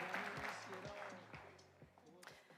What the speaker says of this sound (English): A warm round of applause for all of them,